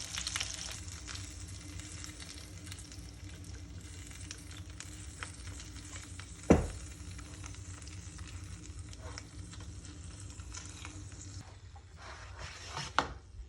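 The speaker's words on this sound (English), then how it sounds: "So we're just caramelising the bottom a little bit, and then we'll pop it in the oven." Chicken sizzling steadily in a hot pan as its underside caramelises before roasting, a continuous close frying hiss with a sharp clack around the middle and another bump near the end.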